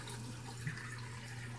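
Lukewarm tap water runs steadily to rinse alum off the face during a wet shave with a Merkur 34c razor, a low, even faucet flow with one brief splash.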